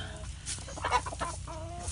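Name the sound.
chickens clucking while roosting at night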